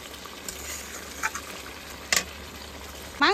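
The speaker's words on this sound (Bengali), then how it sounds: "ভালো করে কষাতে হবে, দেখেছো তেলটা কিন্তু প্রায় ছেড়ে দিয়েছে" Chicken masala sizzles in oil as it is sautéed, a steady low frying crackle broken by a few sharp scrapes and clinks of a spatula against the pan.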